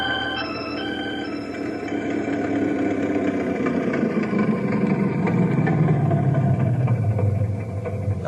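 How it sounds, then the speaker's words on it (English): An old Ford Model A car engine runs steadily, a continuous mid-pitched rumble with a drone that slowly drops in pitch toward the end, fairly close and with no talking over it. "Your old Model A sounds good as new."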